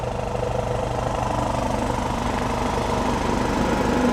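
A YesWelder Cut 65DS plasma cutter slicing through 3/4 inch steel gives a steady, loud, dense hiss and roar with a constant rumbling buzz and no breaks, alone without talk.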